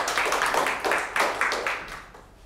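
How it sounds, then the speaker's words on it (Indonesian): A school event audience claps in a few bursts of applause that swell and fade over a couple of seconds, fairly close and loud, with no talk over it. "Tepuk tangan semuanya"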